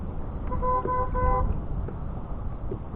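Car horns honk from nearby traffic at a bridge while kayak fishing, a steady held toot with a second overlapping horn over a low rumble of road and water noise, then fading into background hum.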